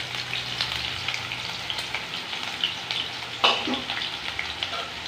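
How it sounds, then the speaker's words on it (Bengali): Potatoes fry with two green chillies in a pan, giving a steady, fairly quiet sizzle with occasional crackles and a brief louder spatter midway, no voices heard. "আলু ভাজা হয়ে গেছে"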